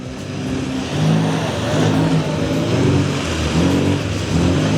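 Several Mini cars do donuts together in the centre of an arena at a Metro Mini show, engines revving loudly and continuously with tyre noise, close and sustained with no talking.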